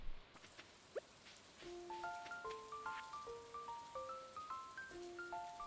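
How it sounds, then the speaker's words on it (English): Rain in the farming game Stardew Valley, a steady soft patter over a gentle looping musical melody of plucked notes, with no talk. "Yes, it rained."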